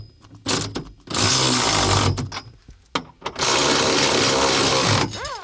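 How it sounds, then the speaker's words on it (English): Power tool, likely an impact driver or ratchet, running a 19mm socket to tighten nuts while fitting a rear strut brace, in two long loud whirring bursts with short buzzy pulses between them. "now we're going to tighten these nuts up using a 19mm socket"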